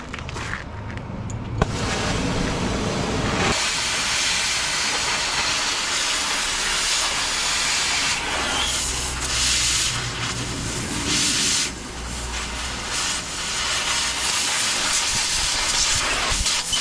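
Arc welding a half-inch-thick steel thumb onto a CAT 307SSR excavator gives a loud, continuous crackling hiss that runs almost without pause from start to finish.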